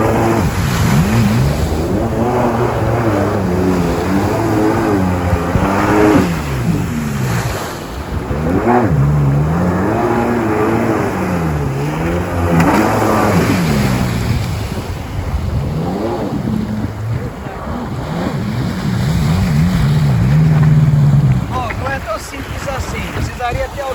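A 1998 Sea-Doo GS jet ski engine revs hard on the water during a wheelie attempt, its whine climbing and falling in repeated surges, loud and close with wind buffeting and splashing throughout.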